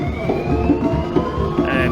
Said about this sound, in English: you're hearing the sirens wailing in the back